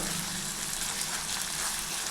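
Steady hissing sizzle of jackfruit seeds sautéing in a hot frying pan, continuous and close, with no voices.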